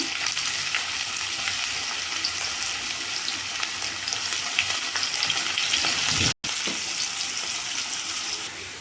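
Onions and green chillies sizzle steadily in hot oil for a chicken curry, a loud, even frying hiss throughout with light stirring clinks and a very brief gap near the end.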